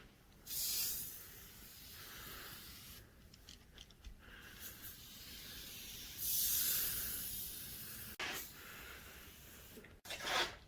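Several short bursts of hissing spray of cleaner onto Toyota Corolla car seats, separated by quiet gaps, with faint rubbing sounds between them.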